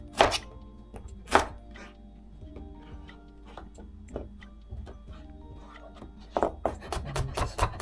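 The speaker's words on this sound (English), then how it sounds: "Thinly slicing it." A knife thinly slices food on a cutting board while Japanese-style shabu shabu hot pot is prepared, giving a few loud knocks, then soft steady taps and a quick closing run of chops, close up, under a faint low hum.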